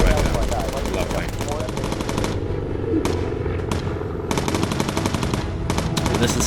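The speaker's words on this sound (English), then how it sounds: "flak is an anti-air system. Usually it explodes in the proximity of the plane" Anti-aircraft flak fire bursts around a bomber in the video game Bomber Crew, dense rapid volleys of cracking shots in loud clusters separated by brief lulls, with a faint voice underneath.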